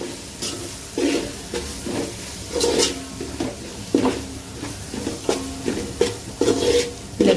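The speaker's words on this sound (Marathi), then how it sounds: "पूर्ण संग परतून घ्यायचे मसाले" Biryani masala and Kashmiri chili powder being sautéed in a pan for veg biryani, with repeated scraping stirs over a soft sizzle, close and fairly loud, no talking.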